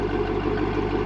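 2005 Chevrolet Corvette convertible with a Lingenfelter twin-turbocharged LS2 6.0L V8 breathing through a Corsa exhaust, a brief, steady, deep idle burble at close range.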